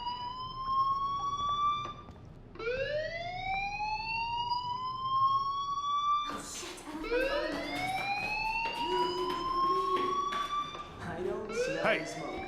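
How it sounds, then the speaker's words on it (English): A school fire alarm in the video game Life Is Strange sounds repeated rising electronic whoops, loud and insistent, each sweep climbing in pitch, with a voice talking over part of it. "do you hear that fire alarm?"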